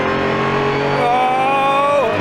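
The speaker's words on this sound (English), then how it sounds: "Oh, the exhaust on the overrun." A hypercar's exhaust on the overrun gives a loud, close, tonal engine drone heard from inside the car. The pitch wavers and then drops away toward the end.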